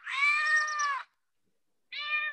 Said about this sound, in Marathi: कॅट कॅट हा मांजर मुलांनो